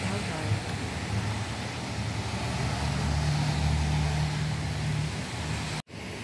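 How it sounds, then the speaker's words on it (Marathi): Cars drive past on a city street near a park in Hartford, Connecticut, giving a steady broad roadway rumble with a low engine drone swelling midway, fairly close, followed by a brief abrupt cutout. "गाड्या धावतायत."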